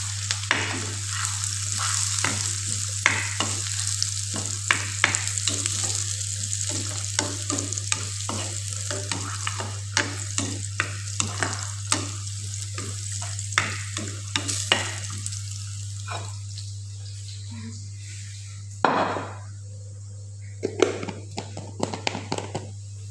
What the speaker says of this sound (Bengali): লাল লাল করে ফ্রাই করে নেব।